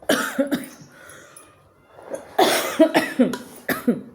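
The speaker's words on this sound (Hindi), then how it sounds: "खांसी में आराम नहीं है मेरे" A person coughs in short bursts, a couple of coughs, a pause, then a rapid cluster of harsh, close coughs.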